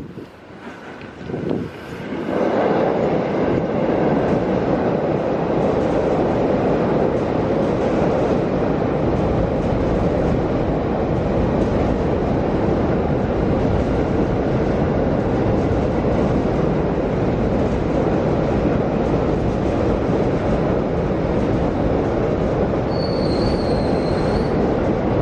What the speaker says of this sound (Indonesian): Itulah kereta rel listrik atau komuter lain yang menuju ke arah stasiun Manggarai.